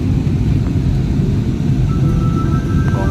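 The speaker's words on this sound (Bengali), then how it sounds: "বিমানে কলকাতা ছাড়ার মুহূর্ত।" Jet airliner taking off from Kolkata, a loud, dense, low-pitched engine roar heard from inside the cabin, steady throughout with no talking.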